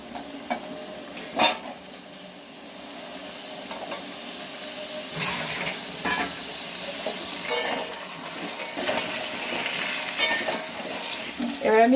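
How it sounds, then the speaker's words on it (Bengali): Vegetables fry in a pan after potatoes, a continuous close sizzle broken by irregular clinks and scrapes of a spoon stirring against the metal, with one sharp knock early on. "এবার আমি এই সবজিটা ভেজে নেব"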